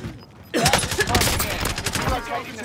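Gunfire in a Call of Duty: Modern Warfare match, a loud burst of rapid shots that starts sharply after a brief quiet moment and continues as a dense fusillade with close, sharp cracks.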